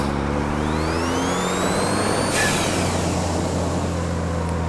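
A turbo whistle rises over a steady engine drone from a truck, then a quick, very loud blow-off valve whoosh cuts it off as the engine keeps running.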